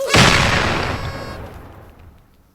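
A single heavy blast from C4 explosive in the video game Mortem Metallum booms loud and close, its roar decaying slowly over a couple of seconds.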